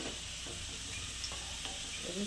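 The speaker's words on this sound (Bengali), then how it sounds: "এই তেলের মধ্যেই আলুগুলো দিয়ে ভেজে নেব।" Potatoes fry in hot oil for a Bengali ash gourd ghonto with bori, giving a steady, close sizzle with soft stirring and scraping throughout and no talk.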